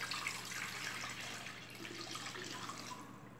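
Water poured steadily into a pot holding lemon and cinnamon, making a continuous broadband splashing stream at close range, with no voices.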